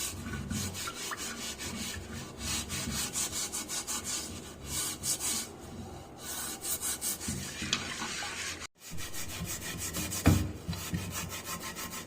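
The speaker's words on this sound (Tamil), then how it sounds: "ரெண்டு பாத்திரத்தையும் இதே மாதிரி நல்லா ஸ்க்ரப்பர் வச்சு தேய்ச்சி எடுத்துக்கலாம்" A scrubber rubs back and forth over an unglazed clay cooking pot being cleaned without soap, giving loud, rhythmic rasping strokes that carry on nearly the whole time with only a brief pause.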